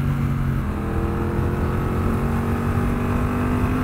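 A Triumph Bonneville Bobber 1200 motorcycle pulling hard under acceleration, a loud, steady engine drone with a rising tone, close and continuous throughout with no voices.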